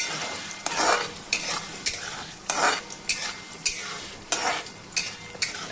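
Egg ghotala mixture cooks in a pan with a steady sizzle, broken by repeated rhythmic scraping strokes of a spatula stirring against the pan, close and clear with no talk.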